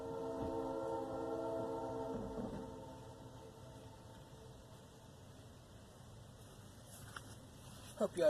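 A train rumbles past nearby during a roadside install on a 1998 Volkswagen Golf, its tonal horn-like drone strong at first and then fading into quieter rolling noise, with a few clicks near the end.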